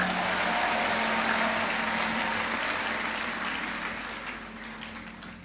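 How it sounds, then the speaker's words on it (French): Church congregation applauding and cheering in praise of the Lord, a dense, sustained wash of clapping that holds steady and then slowly fades toward the end. "Est-ce qu'on peut acclamer le Seigneur?"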